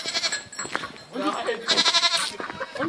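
Goats bleat close by on a farm in the Allgäu, several calls overlapping in quick bursts, with people talking over and around them.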